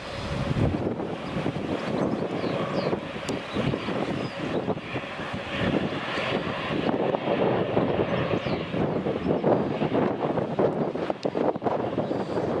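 An Embraer E190 jet at Newcastle Airport, a broad, steady roar with a wind-buffeted rush heard from outdoors at moderate distance, sustained without talk.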